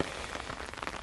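Steady rain pattering on surfaces outdoors on a hot, humid day, a soft continuous hiss of drops without a break.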